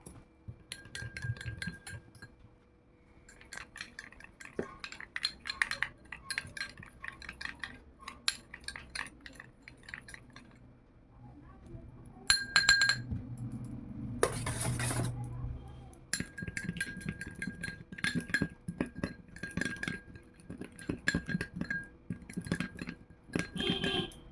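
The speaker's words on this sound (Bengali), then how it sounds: "একটু করে ধুয়ে গুলে নেবো চামচটা ধুয়ে নিলাম" A spoon clinks repeatedly against a bowl while rice flour batter is stirred for rice papad, light scattered taps with a brief rinsing splash midway, close and moderately quiet.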